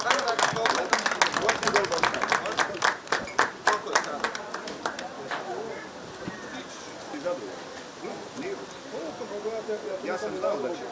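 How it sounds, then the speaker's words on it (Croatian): A racecourse crowd at Zagreb's hippodrome claps for the horse Valteri and jockey Jozef Parigal at a prize-giving, with sharp, fairly rhythmic handclaps for about five seconds before they fade into outdoor murmur and talk. "Molim jedan aplauz za Valterija i Jozefa Parigala"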